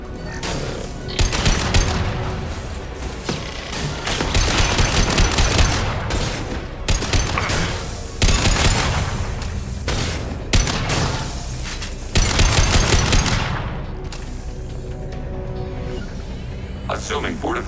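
Automated turret gunfire in the game Mass Effect 2 during a battle: loud, dense bursts of shots come in several long volleys with short gaps between them, mixed with game voices and combat effects.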